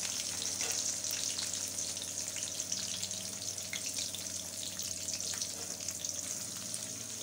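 Dried red chillies, onion, green chillies, mustard seeds and cumin fry in hot oil for atukula upma, a steady close sizzle with soft stirring and no voices.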